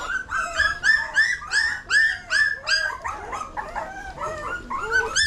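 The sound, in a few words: puppies whimpering and yipping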